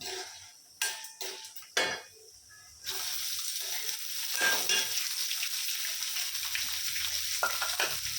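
A few clinks and taps, then a steady loud sizzle of lentils and onion frying in a hot pan, continuing with occasional stirring.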